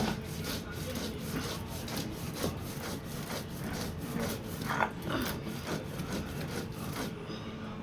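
Poppy seeds are ground into a paste for aloo posto in a steady, rhythmic back-and-forth rasping, with close, even grinding strokes repeating about twice a second until they stop near the end.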